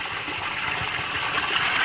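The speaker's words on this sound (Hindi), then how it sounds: "और हर जगह से पानी निकल रहा है, यहाँ पूरे रास्ते में पानी पानी है।" Water runs along a mountain path, a steady rushing gush of moderate loudness that stays even throughout, with no voices.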